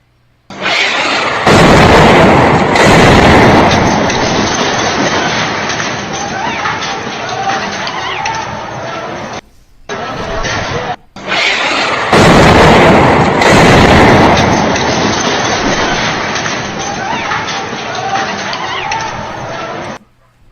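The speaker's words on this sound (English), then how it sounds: "I wonder what U.S. bomb that was." Powerful bomb explosions thunder in two long, loud waves of booming blasts and rumbling, each sustained for several seconds with a short gap between them, heard up close and overwhelming.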